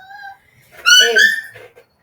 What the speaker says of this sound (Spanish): tengo una perrita aquí que es terrible